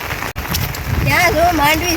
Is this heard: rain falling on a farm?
yes